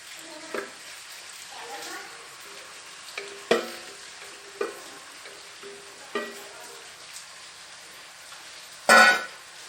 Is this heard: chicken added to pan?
yes